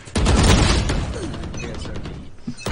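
Gunfire in the tactical shooter Valorant: a loud, dense burst of rapid shots opens and then trails into a rattling, decaying clatter of fire over about two seconds.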